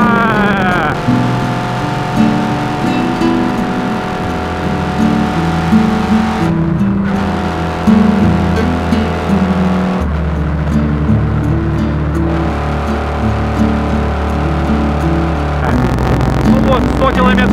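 A Kawasaki KZ650 classic motorcycle engine drones steadily as it accelerates to overtake, a loud continuous tone with rising pitch steps through the gears, while someone talks over it.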